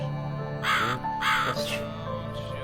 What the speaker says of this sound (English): Oh good. The rude bird again.